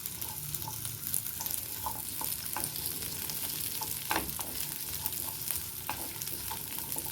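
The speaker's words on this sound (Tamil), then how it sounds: "நல்லா வதக்கணும் தேவையில்லை ஓரளவு வதங்கினா போதும்" Small shallots sautéing in a pan, a steady close sizzle broken by scattered clicks and scrapes of stirring, with no talk.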